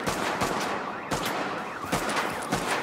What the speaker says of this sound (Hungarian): A sörétes az ilyen középtávolra azért nagyon oda csap.